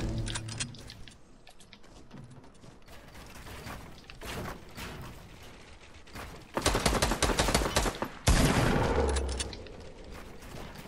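Gunfire in the Fortnite video game, with bursts of sharp, rapid shots and clattering mechanical clicks, the densest volleys coming near the end, loud and close with no talking.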